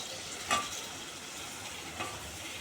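Brinjal stirred in hot tempering oil with pepper, a steady close sizzle of frying with two brief scraping knocks of the spoon against the pan.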